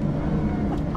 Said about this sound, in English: the sound of those turbos is just ridiculous